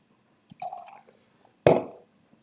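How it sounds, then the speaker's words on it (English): Hazy, dry British cider is poured into a glass. A short gurgling trickle is followed by a louder glugging splash that fades quickly in a quiet room. "pour it into the glass"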